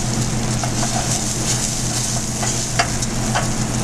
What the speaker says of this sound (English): You want to toast the risotto in the oil until it becomes slightly translucent around the edges